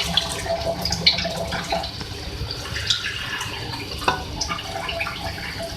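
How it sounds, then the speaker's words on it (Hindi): Water is poured into a cooking pot of potatoes for aloo biryani, a soft continuous trickle and splash with small irregular drips over several seconds, moderately quiet and free of talk. "देखिए मैं इसमें पानी ऐड करूँगी"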